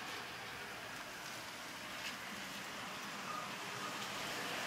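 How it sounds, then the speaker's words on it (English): Heavy rain pours down during a thunderstorm at home, a steady broadband hiss that stays even and unbroken throughout, heard faintly and with no voices. "It's raining really, really hard."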